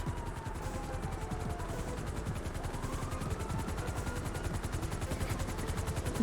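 A helicopter in GTA Online, a steady rapid rotor chop filling the clip at an even level, with a rattle of gunfire mixed in throughout.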